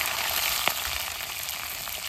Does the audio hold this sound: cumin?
yes